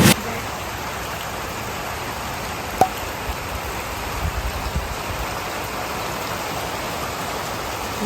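Steady, dense hiss of heavy rain falling continuously, heard from beside a window in Ishwardi, with a faint click and a few soft knocks partway through.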